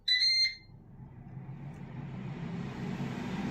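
A Ninja AF400EU Foodi Max air fryer beeps sharply at the start, then its fan spins up into a soft, steady whoosh that slowly grows a little louder, close by and without talk.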